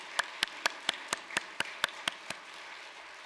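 At a church service, a congregation claps in a brisk unison rhythm, about ten sharp, evenly spaced claps in two seconds, then falls quiet.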